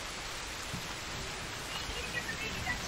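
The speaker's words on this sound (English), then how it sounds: "It's raining out." Steady rain falls in the Bigfoot video game, a continuous hiss of drops on surfaces at an even, moderate level with no voices.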